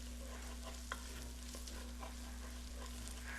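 Garlic sizzles softly in a pan as it is stirred into polenta. Faint frying crackle runs under a steady low hum, and the spoon scrapes now and then.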